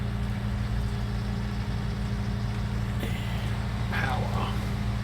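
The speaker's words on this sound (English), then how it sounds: "engine on" Farming Simulator 19 tractor engine idling steadily as a low, continuous hum throughout, with a brief higher rise near the end.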